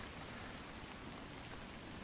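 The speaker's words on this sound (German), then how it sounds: "wenn es hier gerade sowieso regnet" Steady rain falls in the survival game The Infected, a dense, even hiss of drops on surfaces that holds constant from start to finish with no voices.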